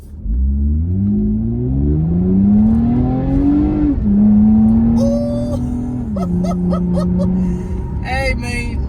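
A 2020 Toyota Camry TRD accelerates hard onto a freeway, heard from inside the car. The engine note climbs steadily, drops at two gear shifts, then rises again toward about 50 mph.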